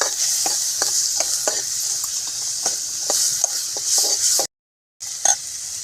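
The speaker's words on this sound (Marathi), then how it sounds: "आता हे कुर्मा मसाला चमचा आता आपण याच्यात भाज्या टाकून द्या" Vegetables go into a pan of sizzling kurma masala and are stirred, giving a steady frying hiss broken by spoon scrapes and clinks, close and fairly loud, with a brief gap near the end.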